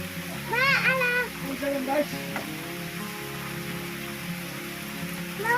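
Heavy rain falls on a rice paddy during harvest, a steady wash of drops under close voices of adults and someone talking and calling throughout.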